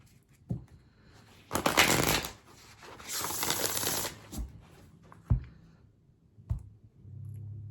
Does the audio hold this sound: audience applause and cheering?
no